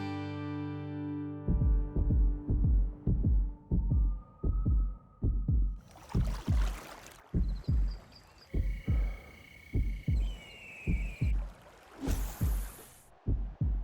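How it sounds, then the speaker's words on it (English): A heartbeat sound effect thumps in steady, deep double pulses at a resting pace, close and prominent, with music and brief swelling tones layered over it partway through. "They say the perfect resting heartbeat is 60 beats per minute."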